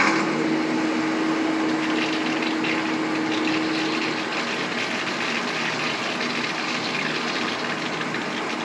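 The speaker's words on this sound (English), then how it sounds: "I'm going to turn on the water now and get that flowing." Water runs from a tap into a home distiller setup, a steady, even rushing hiss that continues without a break, with a faint hum from the running flow underneath.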